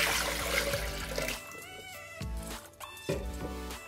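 Water poured into a Thermomix bowl while making churros dough gives a steady, splashing pour for the first second and a half, then a few short softer splashes and thuds. No talking.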